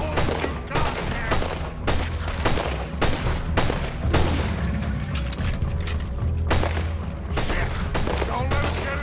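Gunfire in the Western video game Red Dead Redemption 2: a sustained fusillade of sharp rifle and pistol shots with booming reports and rapid bursts, mixed with game sound and faint voices.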